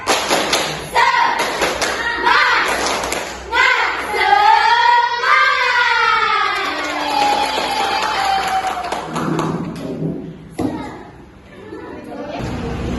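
A standing group at a university citizenship-project event does a rhythmic spirit-clapping ice-breaker, loud claps and thumps in quick patterns mixed with group chanting and voices throughout.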